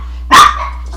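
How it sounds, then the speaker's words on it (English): A single loud puppy bark, sharp and close, followed by a faint trailing yip as the sound fades out. "oops, there's the puppies."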